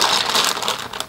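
A cheap plastic bag from a Chinese Hero Factory Lego-style building set crinkles and rustles close up in a continuous, dense burst of crackling without any talk.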